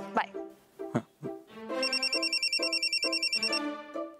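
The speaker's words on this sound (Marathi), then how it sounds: "मला ऋतू फोन करते सारखी." A telephone rings with a steady warbling trill for about two seconds after a few soft thumps and rustles, heard close and fairly clear in a scene from a Marathi TV serial.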